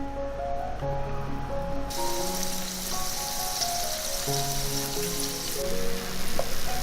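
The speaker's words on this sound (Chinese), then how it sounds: "把做好的糯米锅贴放下来煎，" Steady hissing sizzle of glutinous rice potstickers wrapped in wonton skins frying in a pan, starting after a brief quiet moment, with soft music playing throughout.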